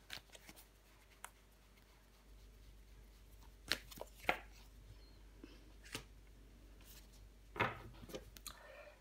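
Tarot cards handled and laid down during a reading, a few soft sliding, flicking and tapping sounds scattered over a quiet background, close and faint with no talk.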